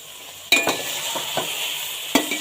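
Grated carrots frying in ghee for gajar halwa, stirred with a spoon: a low, steady sizzle broken by a few sharp scrapes and clinks against the pan, close up and without voices.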